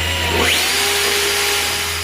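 Power drill with a 1/8 inch bit boring into an aircraft firewall during an MXSR engine and cowl install, a steady whining run that rises in pitch at the start and holds close and loud for about two seconds.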